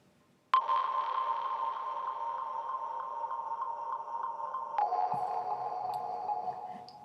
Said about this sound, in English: someone hitting a wood block in a very reverb kind of area, kind of very echoey area